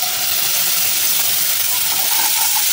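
Fried onion paste hitting hot oil already tempered with whole peppercorns and fennel seeds, for a Bengali katla fish rezala, giving a loud, steady, close sizzling hiss that holds without pause.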